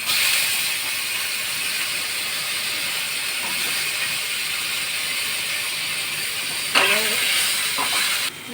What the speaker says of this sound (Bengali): লঙ্কা পেঁয়াজটা ভাজতে দেব, আলুটাও ভাজতে দিলাম